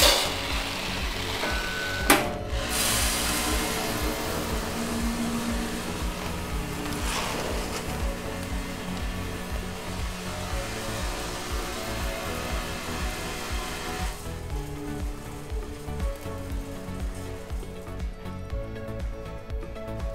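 A VF100E vibratory filler machine runs a fill cycle with a steady mechanical vibrating hum and rattle that holds for the full stretch. One sharper knock comes early, and the tone shifts and thins near the end.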